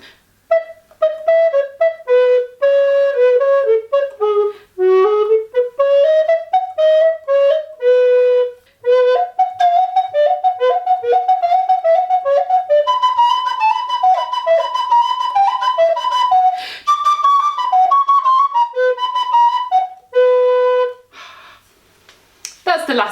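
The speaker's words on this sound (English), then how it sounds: "Hans Keuning, he wrote loads of studies for the recorder" An alto recorder plays the easiest of Hans Keuning's 25 etudes, a clear solo line of quick, detached notes with short breaths and pauses between phrases, close and loud.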